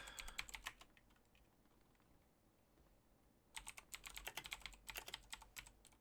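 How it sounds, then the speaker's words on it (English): Rapid typing on a computer keyboard comes in two quiet bursts of light key clicks separated by a pause of near silence, with no voices. "I don't know why I'm Yeah. typing."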